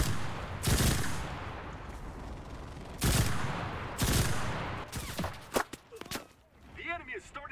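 Rapid machine-gun fire from a West German Army soldier in a Berlin battle game, loud close bursts cut by brief pauses, then scattered single shots and footsteps toward the end.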